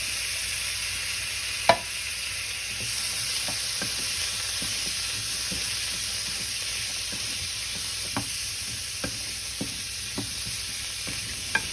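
Rinsed canned chickpeas go into a hot pot for a coconut curry, producing an even, moderate sizzle with scattered spoon taps and stirring clicks, steady and close with no talking.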